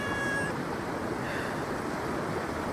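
A domestic cat meows by a lakeshore or beach while waves and water wash steadily in the background; the animal's voice is brief and partly buried in the constant surf noise, with no talking.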